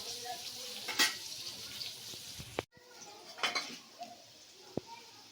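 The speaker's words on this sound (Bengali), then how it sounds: "আলুটাকে আমি ভেজে নেব" Potatoes seasoned with salt and turmeric fry quietly in a pan, a soft steady sizzle broken by a few clinks of stirring, with a voice faintly in the background.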